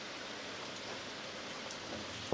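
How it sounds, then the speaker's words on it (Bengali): Steady rain falling outside a window during a storm, a continuous soft hiss of drops at moderate distance with no voices over it. "আর বাইরে দেখো কেমন বৃষ্টি হচ্ছে"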